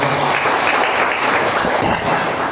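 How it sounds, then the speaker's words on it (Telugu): A church congregation bursts into loud, sustained group clapping during a sermon, a dense wash of many hands that continues unbroken throughout. "గట్టిగా చప్పట్లు కొట్టు దేవుని మహిమపడదాం."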